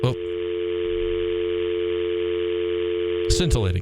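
A telephone dial tone on a radio call-in line plays as a loud, steady continuous hum for several seconds, then ends with a short burst of clicks and garbled sound.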